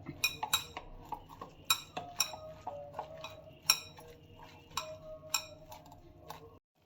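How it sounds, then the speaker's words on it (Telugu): A spoon stirs a grated raw mango pickle mixture with chili powder, crushed cumin and garlic in a metal bowl, making scattered light metallic clinks and scrapes at an uneven rhythm, quiet and close. "వెల్లుల్లిపాయ వేసి అది కూడా దీనిలో వేసి ఈ మిశ్రమం అంతా ఒకసారి కలపాలి"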